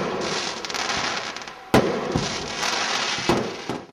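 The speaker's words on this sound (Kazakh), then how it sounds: "Ресми рәсім бірегей отшашумен түйінделді" Fireworks close the official Expo 2017 ceremony in Astana: a dense, continuous crackle of bursts, punctuated by two sharp, loud booms, with no voices.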